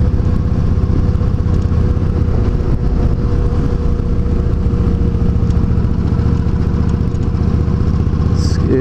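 A motorcycle rumbles past, loud and near, with a steady low engine drone throughout the whole stretch.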